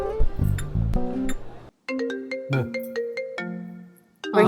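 A mobile phone ringtone rings out as a bright, plucked electronic melody with chiming notes, preceded by a brief muffled sound and breaking off into a short silence partway through.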